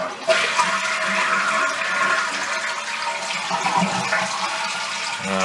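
A toilet flushes with the water supply shut off, the tank draining in a steady loud rush of water that runs for several seconds with no one talking.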